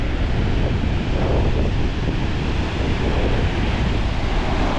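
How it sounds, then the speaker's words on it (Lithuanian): Strong seaside wind buffets the microphone in a continuous loud roar, with surf blending into the rumble and no voices heard. "Vėjas."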